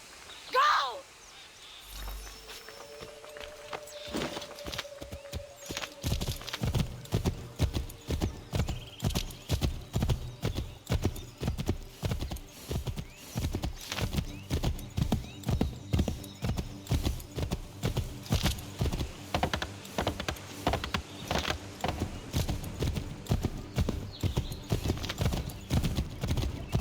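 Rapid, steady clip-clop of a galloping horse in Assassin's Creed III Remastered, loud and close, with a brief whinny near the start and faint game music underneath.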